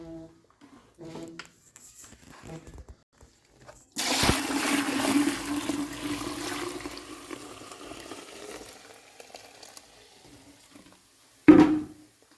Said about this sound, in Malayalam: ഞാൻ വെള്ളം നമുക്ക് ഒഴിച്ചു കൊടുക്കാം.